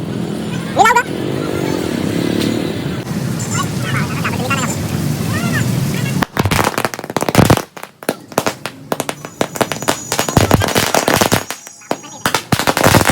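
Firecrackers set off outdoors after rain burst in a rapid string of sharp cracks and pops, loud and close, following a stretch of people talking and a passing motorbike.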